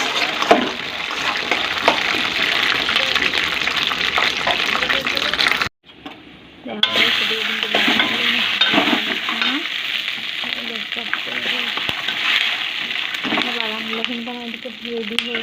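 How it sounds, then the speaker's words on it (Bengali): Nuts lightly frying in oil in a wok, a steady loud sizzle with stirring clinks, a brief drop to near silence partway, and a voice speaking over the frying. "বাদামগুলো একটু ভেজে নেবো হালকা করে"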